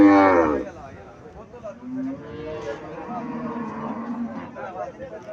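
An Indian Haryana cow at a busy cattle market in Comilla lets out one loud, close moo at the start, followed by a low murmur of crowd and livestock.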